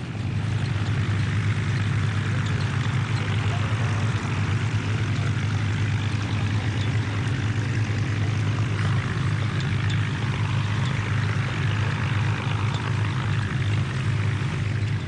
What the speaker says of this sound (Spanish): Esos motores Rolls-Royce suenan como música.